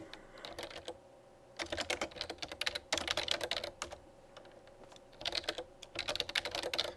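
Fast bursts of typing on a computer keyboard, close and clear, with short pauses between clattering runs of keystrokes; no talking.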